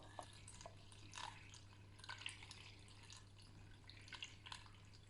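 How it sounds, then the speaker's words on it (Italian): Water is poured through a funnel over stuffed artichokes in a pot, giving faint, irregular dripping and trickling splashes over a steady low background hum. "Io lo metto così, prendo un imbuto e metto l'acqua così."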